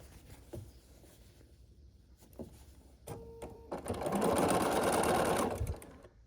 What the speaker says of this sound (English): we're sewing the squares and the pieces into rows 1 through 4